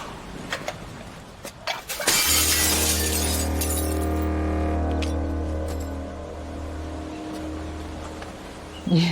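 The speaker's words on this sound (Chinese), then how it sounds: "有气泡就要摔了？" A handmade glass ornament with seaweed inside is smashed on purpose because of an air bubble, a sharp crash followed by a long ringing, fading resonance of scattered glass, with no talking.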